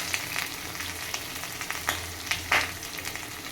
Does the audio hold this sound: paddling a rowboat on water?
no